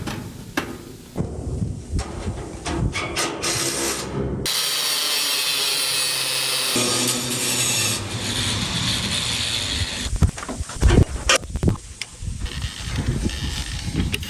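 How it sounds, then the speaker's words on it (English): A bolt for a roof bracket on a workshop roof being cut, heard close and loud as a sustained grinding, rasping run with a pause, then uneven mechanical clatter and knocks. "We have to cut this bolt right here because another bolt comes out."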